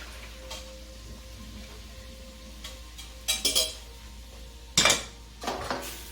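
Cooked asparagus strained from a pot in a home kitchen, with several metallic clinks and clatters of pot and utensils in short bursts over a steady low hum and faint background sizzle.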